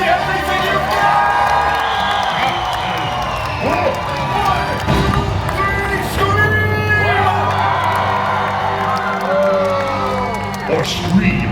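A large theme-park audience at a Disney villains stage show at Disney's Hollywood Studios shouts, whoops and cheers loudly and continuously, with children's voices among the crowd and a performer's voice over it.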